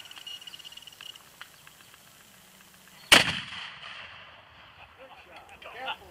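An 18th century cannon fires once with a sudden loud boom in the open air, then a long rumbling echo fades; quiet outdoor ambience and faint voices come before it.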